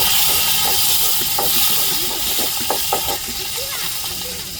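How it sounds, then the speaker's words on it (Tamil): Curry leaves sizzling in hot oil, a loud hissing fry that fades slightly over a few seconds, with small pops and crackles and a voice speaking faintly over it. "கருவேப்பிலை சேர்த்துக்கிடுவோம்."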